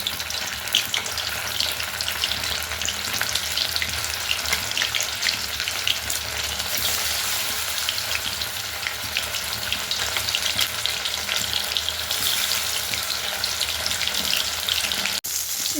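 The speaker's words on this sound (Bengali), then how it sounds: "তেলটা গরম হলে আমি একে একে এগুলো ছেড়ে দেবো আমার তেল গরম হয়ে গেছে" Bombay duck (loitta) fish pakoras fry in hot oil with a dense, steady bubbling sizzle that fills the whole stretch at close range. There is no talking over it.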